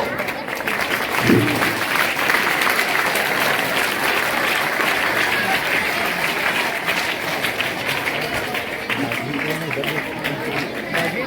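Students and guests at a school best-teacher award ceremony applaud continuously for about eleven seconds, dense clapping close and steady, with chatter and speech running underneath.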